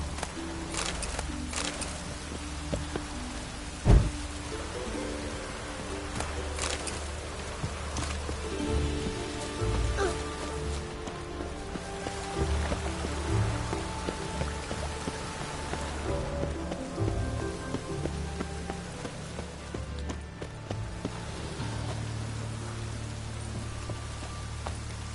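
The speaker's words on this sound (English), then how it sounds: "Looks like rain." Steady rain falls in The Witcher 3 on PS5, a continuous patter of drops with a few louder sharp taps, alone without speech.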